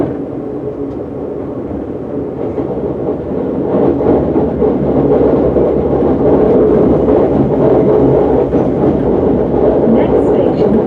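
A London Overground electric train on the Watford DC line rumbles steadily and loudly from the cab, a broad continuous roar that builds slightly as it runs, with no voices.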